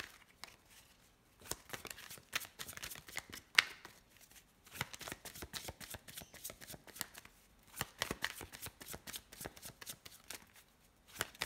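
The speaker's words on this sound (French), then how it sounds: "Là, je vais les mélanger et je vais aller les chercher" Oracle cards are shuffled by hand in several quick, papery riffling bursts separated by short pauses, close and fairly soft, with no talking.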